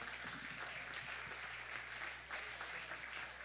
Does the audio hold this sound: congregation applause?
yes